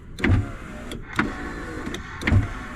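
A car's power window motor running the glass up and down during alignment work: three short whirring motor runs, each starting with a click and ending with a thud, close up and loud with no talk.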